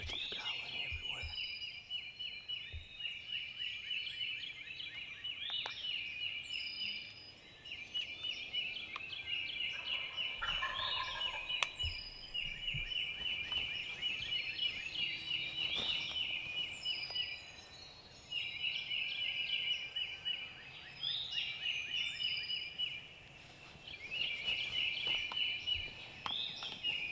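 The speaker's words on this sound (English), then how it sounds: "I've got turkeys gobbling everywhere." Wild turkeys gobble repeatedly in Tennessee woods during spring hunting, rattling calls overlapping from several birds at moderate distance, near continuous across the stretch with brief lulls.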